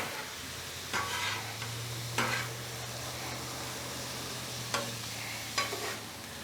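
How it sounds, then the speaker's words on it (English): Fresh hamburger meat from a farm-raised steer sizzles on a 36-inch Blackstone griddle, a steady close frying hiss broken by a few sharp scraping strokes of a spatula. "We put it on here and have it cooking. This is fresh hamburger, fresh hamburger meat."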